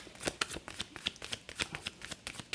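Tarot cards being shuffled by hand in a steady run of crisp riffling snaps and soft slaps, close and fairly quiet, with no talking.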